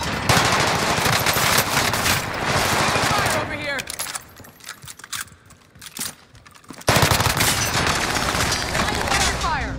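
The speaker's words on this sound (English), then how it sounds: "Enemy fire over here!" Heavy automatic gunfire in a Warzone match: dense, loud bursts fill the opening seconds, thin into sparser shots and clatter, then return in a sustained roar near the end.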